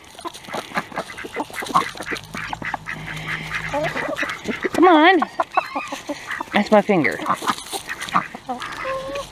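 Ducks quack in short, raspy bursts alongside clucking chickens in a farmyard, with a person speaking nearby and coaxing the birds.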